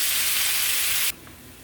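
Taco meat browns in a hot pan with a loud, steady sizzle that cuts off abruptly after about a second, leaving quiet room tone.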